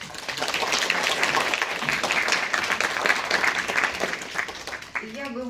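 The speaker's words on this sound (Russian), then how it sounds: "Похлопаем." A small hall audience at a creative meeting with an academician breaks into sustained, dense applause lasting several seconds, then tapering off as a voice begins speaking.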